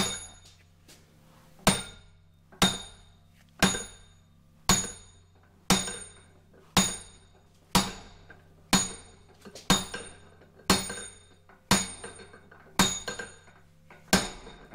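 Steady hammer blows pound a stuck quill and spindle out of a 1960s milling machine, about a dozen sharp metallic strikes at roughly one-second intervals, each ringing briefly before the next, with no talk.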